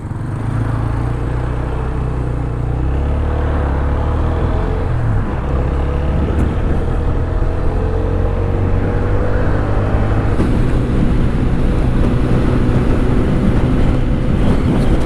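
An Apache RTR 160 4V motorcycle with dual-channel ABS idles steadily, then the engine note rises as it pulls away and rides on, a continuous loud drone with no talking.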